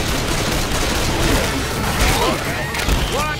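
Dense, continuous gunfire in Left 4 Dead 2 versus play, loud overlapping shots and crashes filling the whole stretch, with voices talking over the chaos.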